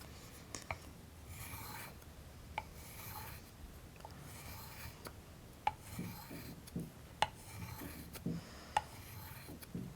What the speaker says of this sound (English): as I pull it back, I'm just going to roll it along the stone so I can get a polish on the entire edge